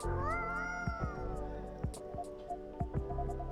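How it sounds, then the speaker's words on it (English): Cat meowing in the video game Coffee Talk 2, a drawn-out meow followed by several short soft mews over quiet background music. "Do you have a new pet cat then?"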